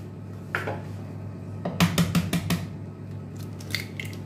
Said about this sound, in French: on vient casser 3 œufs dans un saladier